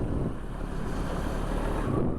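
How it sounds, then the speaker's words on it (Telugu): Strong cold wind roars over the microphone on a motorcycle ride on an NS200 between Lambasingi and Araku, a steady loud rumbling buffet with no talk. "గాలి వస్తుంది బాగా, చలిగాలి."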